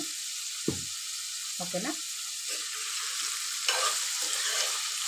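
Boiled radish (mullangi) frying in a pan as it gets stirred, a soft steady sizzle with a few scraping stirs of the spoon, and a brief spoken question from the cook.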